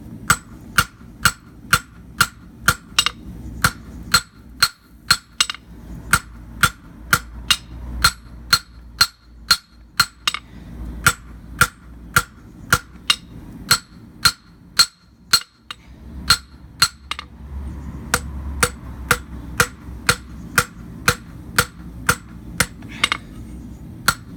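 Hammer blows ring out steadily on hot Damascus steel as the tang of a blade is drawn out on an anvil, sharp metallic strikes in a regular rhythm over about two dozen seconds, close and clear with no talk.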